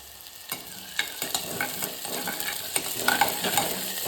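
Curry leaves frying in hot oil for a soya chunks curry, a steady sizzle broken by a series of sharp spatula scrapes and taps against the pan.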